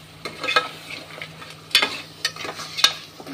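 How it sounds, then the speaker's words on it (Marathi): Crabs stirred in a hot pan for a crab masala, with soft sizzling frying underneath and several sharp spatula scrapes and knocks against the metal, close and uneven in rhythm. "असे खेकडे टाकायचे"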